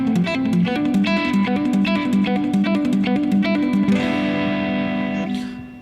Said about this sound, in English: Here's a quick lesson on selective picking and how to combine that with hammer-ons from nowhere.